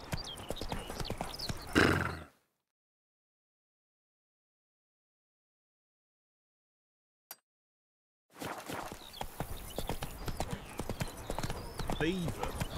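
Hooves of Roach, the horse in The Witcher 3, gallop loudly at a quick clip, then cut to several seconds of silence with one brief tick before the galloping and game noise return, with voices mixed in.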